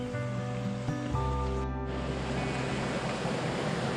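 Water rushes steadily over rocks in a stream at the Buzet waterfalls, a broad, continuous close wash of noise with a few faint tonal hums early on and no talk.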